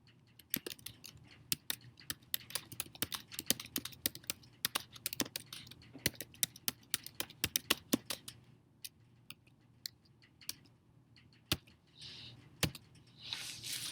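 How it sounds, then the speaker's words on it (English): Keys tapped on a computer keyboard in quick, irregular bursts of sharp clicks, close and fairly quiet, with short pauses and a slower patch near the end. "I'm going to type it in"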